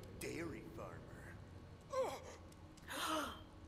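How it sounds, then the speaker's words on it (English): Characters in the video game Tiny Tina's Wonderlands gasp three times at spaced intervals, giving sharp breathy intakes with voiced edges. The gasps are fairly quiet and stand alone without other talk. "Why are we gasping?"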